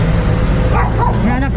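A dog barks and yips a few times close by, short sharp calls heard among people talking.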